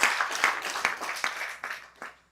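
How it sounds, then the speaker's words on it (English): An audience at a filmmakers summit claps in a brief, moderately distant burst of applause, with several sharp individual claps standing out before it tapers off. "Let's clap for ourselves."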